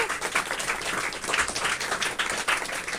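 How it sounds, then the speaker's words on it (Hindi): A classroom of students claps for a top-scoring student, a dense, continuous patter of hands at moderate loudness with no talk. "ताली बजा दो जोर से"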